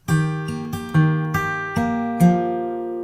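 Clear plucked acoustic guitar notes ring out one after another at an easy pace, each sustaining and overlapping the next.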